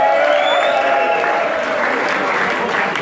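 A concert crowd cheers and applauds loudly and steadily, a dense wash of clapping and shouts filling the whole stretch without pause.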